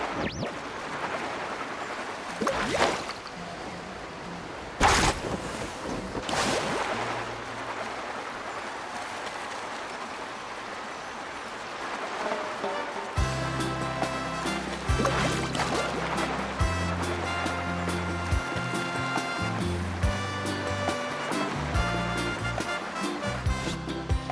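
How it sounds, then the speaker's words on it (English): Waves splashing and rushing while surfing across water in Genshin Impact, a steady watery wash that runs throughout, joined by game music in the second half. "Carving waves!"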